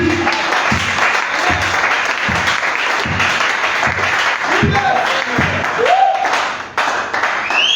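Church congregation at a French-language worship service applauding and cheering in steady, sustained clapping that fills the space, with voices rising in shouts and cries of praise over the crowd throughout.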